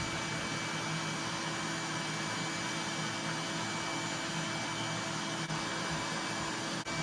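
A table saw fitted with a taper-cutting jig runs with a steady, loud mechanical roar and whine. The noise stays even and unbroken throughout, with no speech.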